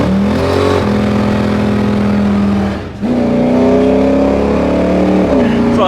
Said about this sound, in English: look at this thing, how it goes down the road, Dol.